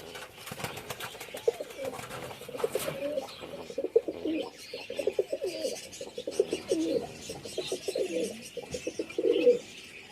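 Pigeons coo repeatedly in a village loft kept for Madrasi pigeons, a steady run of close, low, throaty rolling calls across the whole stretch, with no talk over them.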